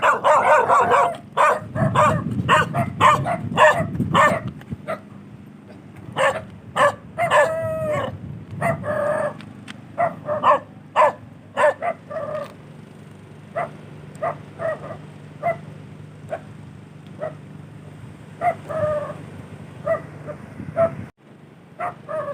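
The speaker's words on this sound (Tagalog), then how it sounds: "Nagalit ka agad yung aso." A dog barks repeatedly and loudly, in irregular clusters of sharp barks with short pauses, continuing throughout against a low background rumble.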